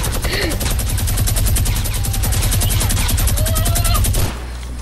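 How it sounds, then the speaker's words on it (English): Rapid small-caliber gunshots fire in a video game, a dense, even stream of quick pops that is loud and continuous for about four seconds, then stops abruptly, leaving a low background hum. "You hear these little shots."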